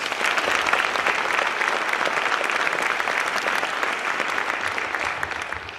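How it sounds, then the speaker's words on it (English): Steady, dense applause from a large crowd at a city's State of the City address, sustained throughout at an even loudness with no voices standing out. "Let's give them another round of applause."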